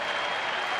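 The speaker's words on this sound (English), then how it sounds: "The crowd standing at Globe Life Park applauding the 28-year-old left-hander" A standing crowd at Globe Life Park in Texas applauds left-handed pitcher Derek Holland at a Rangers baseball game, a dense wash of clapping heard in a brief, steady burst.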